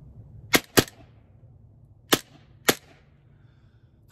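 An Umarex Glock 19X Gen 5 green gas airsoft pistol fires four sharp, loud cracks in two quick pairs, each snapping out alone against a quiet background.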